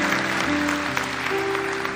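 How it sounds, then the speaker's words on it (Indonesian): Church congregation applauding during a sermon, a steady dense wash of clapping hands filling the room, with sustained tones from a keyboard or organ underneath. "Kita beri tepuk tangan untuk kebenaran ini."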